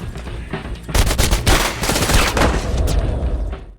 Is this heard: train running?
no